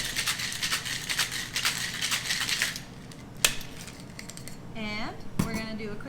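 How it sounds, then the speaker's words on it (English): Raspberry vodka cocktail with lemon juice rattling in a shaker, several seconds of rapid rhythmic ice clatter up close, then a few louder knocks and clinks as it stops, with a brief voice-like sound in between. "then we're going to shake it up"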